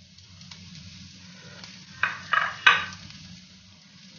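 Chopped onion and garlic fry in oil for pizza sauce, a low steady sizzle with a few louder stirring scrapes near the end, close and alone without speech.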